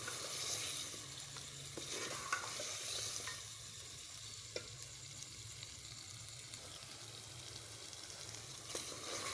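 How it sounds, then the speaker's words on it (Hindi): Beef and peeled, chopped round gourd (tinda) frying together in a pot, a soft steady sizzle with occasional stirring clinks, quiet and close throughout. "अब ये भी साथ ही ऐड कर रही हूँ ताकि दोनों चीज़ें अच्छी तरह मैं भून लूँ।"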